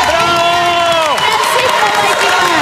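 A TV studio audience cheers and applauds loudly and steadily for an arriving guest, with shouts and voices mixed into the dense crowd noise.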